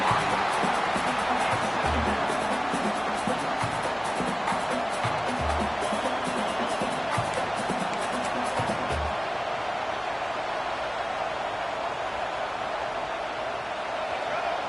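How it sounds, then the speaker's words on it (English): A huge stadium crowd in a college football video game at Oklahoma roars continuously, a dense wash of noise filling the space, with some low thumps and murmurs in the first half that then settle into steady din. "Listen to this crowd just shaking the girders of this place trying to help their defense."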